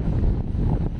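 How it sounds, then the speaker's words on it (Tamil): Strong wind on an open hilltop at Kalimalai near Kanniyakumari buffets the microphone in a loud, continuous rumbling roar, gusting briefly. "காத்து அப்படி இழுத்து தள்ளுது நம்மள."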